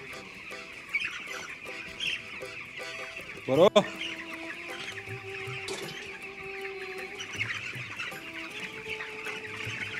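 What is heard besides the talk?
chickens clucking at a poultry farm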